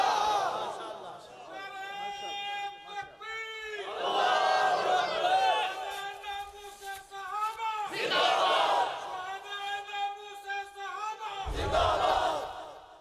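A large crowd at a religious gathering chants slogans in unison, voices rising and falling in repeated rhythmic waves across the whole stretch, loud and massed, with a heavy low burst near the end.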